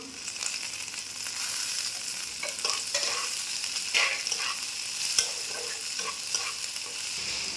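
Onions already fried until reddish take in two added tomatoes in a pan, producing continuous sizzling with irregular stirring scrapes and soft clatters, for a fish-head and cabbage curry; no one talks.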